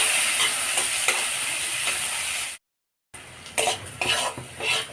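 Cashews and raisins frying in ghee in a pan, with a steady sizzle, stirring and scrapes of a utensil against the pot, broken by a brief silent gap before the stirring resumes.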